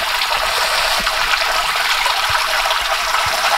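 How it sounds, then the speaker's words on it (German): A mountain spring gushes straight out of the rock and flows toward the sea, making a loud, steady rush of water close by that never lets up, with no voices. "Kommt einfach mitten aus dem Berg und fängt an, Richtung Meer zu fließen."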